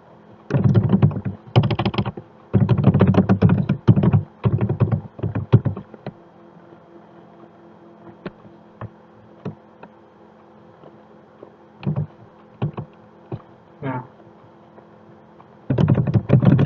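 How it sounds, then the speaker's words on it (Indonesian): Typing on a computer keyboard in bursts: quick clusters of clicking keystrokes, then a quieter stretch of scattered single taps, and a final burst at the end, close up with no one talking. "untuk percobaan kita ketikkan"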